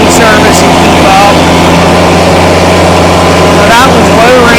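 A 2019 Kubota BX2380 sub-compact tractor with a front loader and 54-inch belly mower drives in low-range four-wheel drive, its engine giving a loud, steady, close drone that runs unbroken through the whole stretch.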